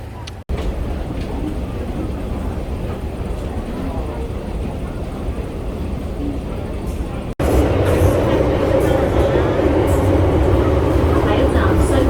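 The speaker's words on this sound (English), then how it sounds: "I'm gonna take the MTR back home." A Hong Kong MTR subway train ride sounds as a steady, loud rumble of a carriage in motion, with a sudden jump in level partway through as the train noise grows heavier and brighter.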